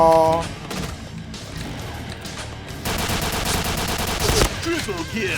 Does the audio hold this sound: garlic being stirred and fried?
no